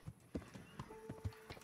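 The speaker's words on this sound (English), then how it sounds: "You're Captain Bernard's horse." In Kingdom Come: Deliverance, soft, uneven hoof clops from a horse, several hollow knocks spaced irregularly, fairly quiet and close with a faint background tone.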